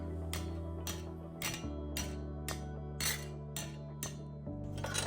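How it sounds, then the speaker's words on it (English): A rubber mallet gives a license plate holder for a Suzuki GSXR 600, clamped in a vise, about eight light, evenly spaced taps. The dull knocks sit close over a constant low hum. "I'm just going to attach it into a vise and give it a few light taps with a rubber mallet"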